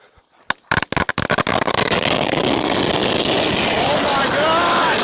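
A 16,000-shot firecracker roll goes off with a few sharp single bangs, then erupts into a dense, continuous crackling barrage that stays loud and close to the end.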